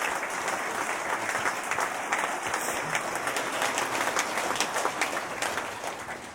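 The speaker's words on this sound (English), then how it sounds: "I want you to give Dan a round of applause" An audience applauds Dan at a lineman school graduation ceremony, dense sustained clapping from many hands filling the room at an even level throughout.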